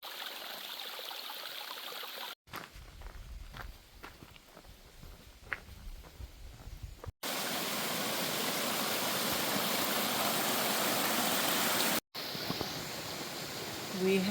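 A raging river in Fairyland, Virginia, beside a mountain laurel trail, gives off a steady, loud rushing roar, heard in several spliced stretches with a quieter interval of faint knocks in between.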